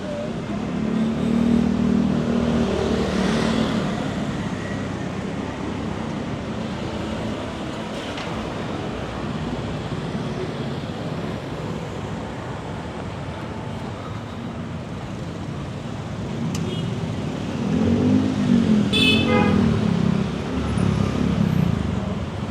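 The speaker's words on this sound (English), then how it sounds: "Look at the traffic, just crazy." Busy street traffic in Kuta, Bali, with cars passing and engines swelling and fading at moderate distance, and a couple of brief horn-like tones rising over the steady road noise.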